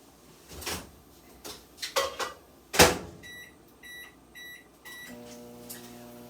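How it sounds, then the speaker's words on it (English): A microwave oven door clunks and keypad beeps sound, then the oven starts heating cinnamon rolls with a low, steady hum close by. "10 seconds in the microwave."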